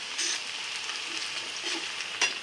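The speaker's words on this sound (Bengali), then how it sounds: "দেখো আমার পেঁয়াজ এদিক ভাজা হয়ে গেছে" Onions frying in a pan make a soft, steady sizzle with gentle stirring scrapes and a small clatter near the end, close and alone without talk.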